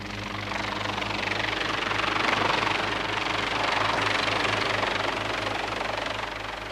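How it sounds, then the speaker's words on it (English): A helicopter descends toward the landing platform on the stern of the ship Calypso, its rotor thumping in a steady beat over a broad engine roar that swells and fades slightly. "the helicopter descends to its landing platform on the stern of Calypso"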